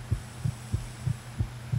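Heartbeat sound effect from the horror game Survive the Night: six deep, evenly spaced thumps in a steady throbbing rhythm, close and prominent with no talk over it.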